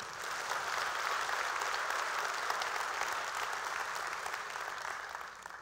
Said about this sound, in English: So you should clap for yourself for doing that.